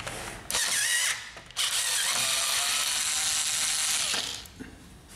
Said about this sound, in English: To remove the other side panel, remove the screw.